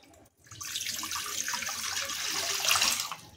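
Water from a tap pours into a pot, starting after a brief pause and building into a steady, close rush that grows slightly fuller as the pot fills.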